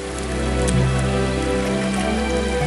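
Steady rain patters outdoors in the woods at a camp, a dense even hiss of drops falling on surfaces throughout, with no voices.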